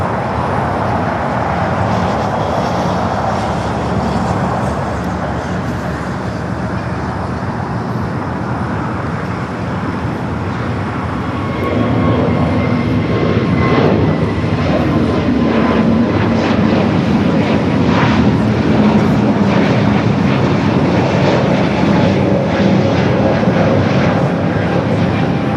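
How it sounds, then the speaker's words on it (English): An Airbus A380 takes off at LAX, rolling down runway 24 Left, its engines building into a loud, sustained broadband roar that swells and grows heavier partway through. "Off the A380 goes,"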